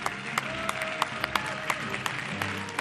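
Studio audience applause on a Bulgarian TV show, a steady moderate clapping wash with sharper individual claps standing out, a low hum underneath and faint background voices.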